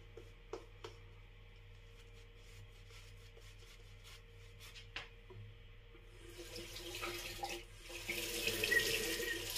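A tap runs water for working up shaving lather, starting as faint drips and trickles, then swelling after a few seconds into a steady, fairly loud rushing stream.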